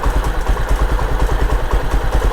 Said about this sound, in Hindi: देखो आप ध्यान से सुनना इंजन का साउंड को